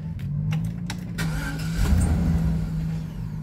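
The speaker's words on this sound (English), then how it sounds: "You see the car start and shut off." A 2006 Chevrolet Express van cranks and briefly catches, its engine running for a moment before shutting off, with a few sharp clicks near the start, all heard up close and without speech.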